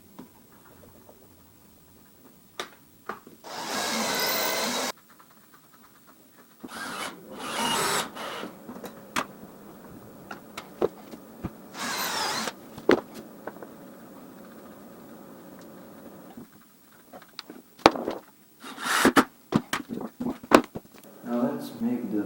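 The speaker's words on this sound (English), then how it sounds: "Let's make the hole for the long screws into that one." A power drill bores holes for long screws into a wooden staircase handrail in several short, loud whirring bursts, separated by quieter handling sounds and some speech.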